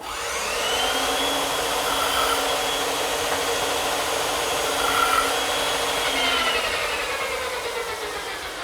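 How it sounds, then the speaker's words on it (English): A bandsaw runs steadily, cutting away waste wood to form a tenon for a standing mirror, with a continuous loud whirring drone and no talk. "the bandsaw is a good choice to remove the rest of the material to form the tenon"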